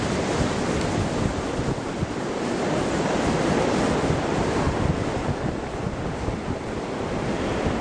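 Surf breaks and washes continuously on Buzious beach, a loud, broad roar mixed with wind buffeting the microphone and no talking.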